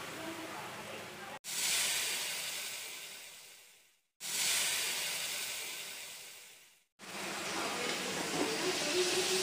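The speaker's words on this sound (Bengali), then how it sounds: "এখন আমি পানি দিয়ে দিব" Water is poured into a hot pan of frying onion and chili, bursting into loud steamy hisses three times, each one fading before a brief silence.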